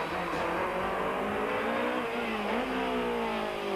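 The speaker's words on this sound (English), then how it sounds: "J Bay is about to see some action of a more noisy kind." Rally car engines rasping through a tight town stage in the streets of Jeffreys Bay during the 1993 Volkswagen Algoa Rally, a continuous loud revving roar with shifting pitch as the cars accelerate.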